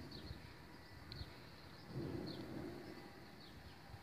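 Thunder from a nearby summer thunderstorm in Pernois, northern France, rolls as a faint, low rumble that swells for a moment midway through, with soft outdoor ambience around it.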